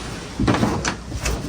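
A door opens or closes in a room under renovation for new flooring and walls, giving a brief thud and scrape close by against steady background noise.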